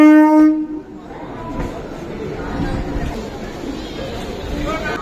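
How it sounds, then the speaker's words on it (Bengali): A Medinipur local train arrives at a station, opening with a brief horn blast before rumbling rail and wheel noise fill the scene, with a busy platform murmur and voices underneath. "এই মেদিনীপুর লোকাল ধরে আমরা যাবো সাঁতরাগাছি।"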